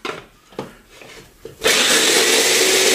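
Spice mix for a homemade fried chicken coating being ground in a blender: a few light knocks, then the motor kicks in with a loud, steady, gritty whir that runs to the end.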